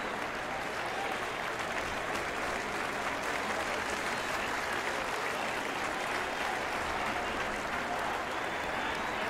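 Crowd cheering and sustained applause from the cycling game Pro Cycling Manager 2024 after a race win, a dense, even roar of clapping that fills the whole stretch without pause, heard alone.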